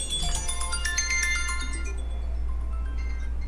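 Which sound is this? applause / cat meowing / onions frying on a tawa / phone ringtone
phone ringtone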